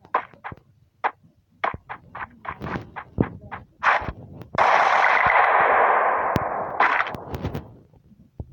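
Gunfire in a first-person shooter video game: sharp single shots and short bursts ring out close by with echo, then a long sustained rattle of automatic fire before more scattered shots.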